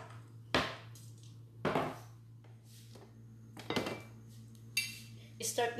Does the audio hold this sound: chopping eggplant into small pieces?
yes